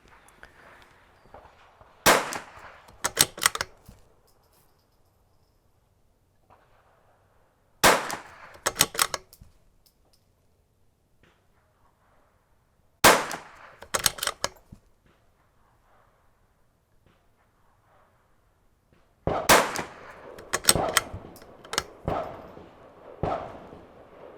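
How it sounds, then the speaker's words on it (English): Rimfire gunshots at an outdoor range firing CCI standard velocity rounds, with sharp cracks in quick bursts of two to four shots separated by pauses, loud and near with no talking. "Twenty rounds fired, CCI standard velocity"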